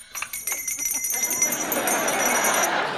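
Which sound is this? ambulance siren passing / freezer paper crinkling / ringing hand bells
ringing hand bells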